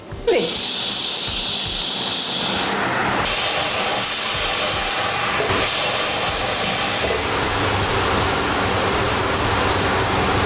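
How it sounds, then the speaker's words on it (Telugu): A loud, continuous hiss of steam rushing out of a pressure cooker cooking moong dal rasam, close by and unbroken for the whole stretch. "కుక్కర్ మూత పెట్టుకొని కొంచెం ఆవిరి వచ్చిన తర్వాత విజిల్ పెట్టుకోండి"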